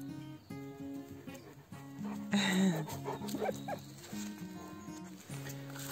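A dog whimpers and gives short yips close by, with faint talking and a steady tonal hum in the background.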